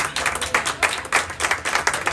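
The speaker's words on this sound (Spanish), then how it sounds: "Damos un aplauso al Señor" Congregation in a church service clapping in a quick, steady rhythm, a dense close run of claps with no talking on top.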